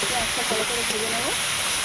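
Sliced onions frying in a pan of hot oil seasoned with black cumin seeds and a dried red chilli, a steady close hiss and crackle while someone talks over it.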